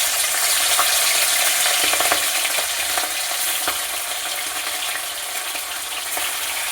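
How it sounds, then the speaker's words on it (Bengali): Fish pieces fry in hot oil in a wok, a loud, dense, continuous crackling sizzle up close, with faint clicks of stirring scattered through. "কড়াই তেলটা গরম হয়ে গেছে, এবার মাছগুলো একটা একটা করে দিই।"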